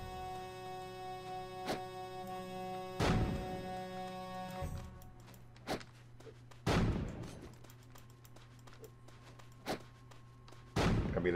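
Grenade explosions in the video game Pirates Online: several separate sharp blasts at irregular intervals, a few louder ones standing out against a sustained tonal game background and a few smaller clicks between.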